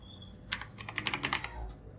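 Quick run of typing on a computer keyboard, about a dozen light key clicks in close succession over a faint background hum, alone and quiet.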